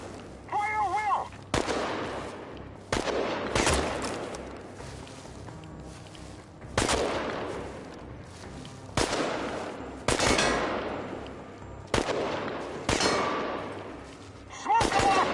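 Gunfire in the Chernobylite video game, a series of sharp, loud single shots spaced every second or two, each ringing out with a long decaying echo, with brief shouted voices between.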